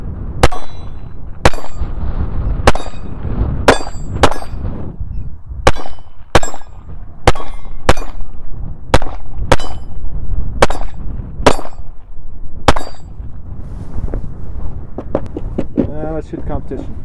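Repeated single shots from a Taurus TX22 Compact .22 pistol, standard and competition models, each with a sharp crack and metallic ring off steel targets, spaced irregularly about a second apart outdoors in wind, with a voice briefly heard.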